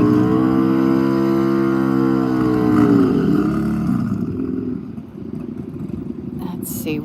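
A drag racing motorcycle named FAFO, ridden in lane 2 at Rocket City Dragway in Huntsville, Alabama, roars loudly with a rising, sweeping engine pitch for about three seconds. It then fades into broad track noise while an announcer talks over it.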